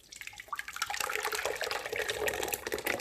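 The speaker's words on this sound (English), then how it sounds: "So I'm going to pour it back in the pot that I boiled it in" Guava juice is poured from one container back into a cooking pot, a steady splashing, gurgling stream of liquid that swells after the first second and runs continuously, close and fairly loud.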